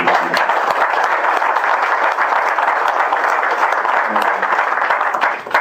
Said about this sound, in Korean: 우리 김 위원장님한테 큰 박수 한번 부탁드리겠습니다